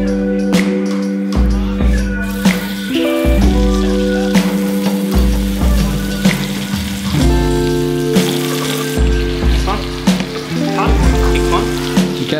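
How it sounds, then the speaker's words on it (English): Steak searing in a hot pan with butter gives a continuous crackling sizzle, loud and close. Steady tonal music plays over it throughout. "Cooking steak. Got a good sear"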